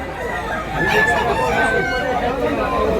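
Roosters crow at a rainy outdoor chicken market in Tabunok, Cebu, their long calls rising over a dense, steady crowd murmur and rain noise, with people talking nearby.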